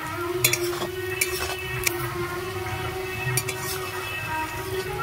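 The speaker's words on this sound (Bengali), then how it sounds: "মাছ ভাজার সময় আমি বেশি করে তেল দিয়েছি, সেই তেলটা আমি আর তুলিনি। সেই তেলে আমি রান্না করছি।" Onions cook in plenty of leftover fish-frying oil in a pan for tel koi, a koi fish dish. A soft, steady sizzle sits under a low hum, with a few sharp utensil clicks.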